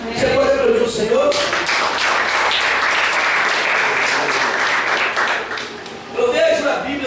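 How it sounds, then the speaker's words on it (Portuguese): A church congregation bursts into sustained applause and clapping, loud and dense for several seconds before tapering off, with voices cheering over it. "Você pode aplaudir o Senhor?"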